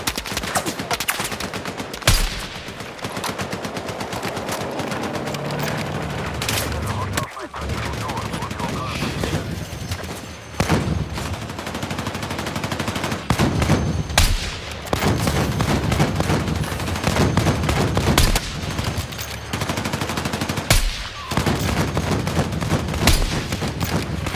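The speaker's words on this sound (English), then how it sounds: "Hostile machine gun in sight!" Battlefield 6 gameplay is full of dense machine gun fire, rapid bursts and sustained volleys that crack loudly and almost without pause, with heavier booms mixed in and in-game voices calling out over the shooting.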